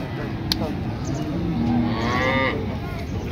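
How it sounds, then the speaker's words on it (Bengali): A local desi cow at a cattle market gives one drawn-out moo of about a second, rising then falling, clear and close over a constant murmur of crowd noise. "অনেক সুন্দর একটা গাভী, দেশির মধ্যে দেশি গাভী।"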